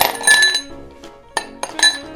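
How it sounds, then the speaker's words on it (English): Ice cubes drop into a rocks glass, bright clinks and rattles in several separate bursts, loud and close with no talk. "we're going to start by taking a rocks glass and putting some ice cubes in it"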